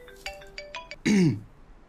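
A phone rings nearby with a short series of electronic tones, followed by a brief louder throat-clearing sound.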